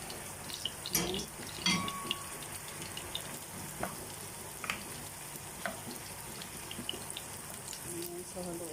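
Carrots sizzle in a hot pan for pancit canton, a soft continuous frying hiss with occasional scraping clinks from stirring, fairly quiet and close.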